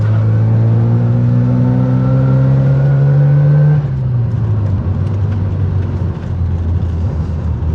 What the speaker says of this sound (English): When that second turbo hits, that's when it comes on.